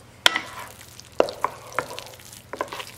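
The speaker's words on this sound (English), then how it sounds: "I'm just gonna mix that egg up in here" Egg being mixed into a sweet potato mixture in a bowl, several sharp utensil clinks and scrapes at irregular intervals over a quiet background.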